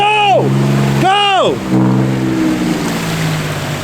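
A vehicle spins its wheels on traction boards in snow during a blizzard in Southern California, the engine revving loudly in two rising-and-falling surges, then settling into a steady strained drone.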